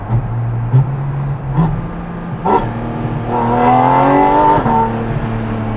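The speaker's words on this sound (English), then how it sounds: "If I open the exhaust, we are up to temperatures." A Porsche Cayman GT4RS with a valved titanium rear exhaust section, valves open, idles with blips, then revs up in a rising, rasping pull, loud and close, with no talk.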